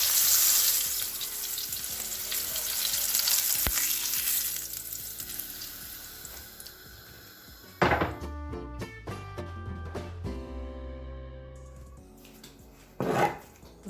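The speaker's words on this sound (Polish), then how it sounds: "tak wygląda schab podsmażony na patelni" Pork loin sizzles steadily in a hot frying pan, a dense crackling hiss with a few sharp utensil scrapes and clinks partway through and near the end.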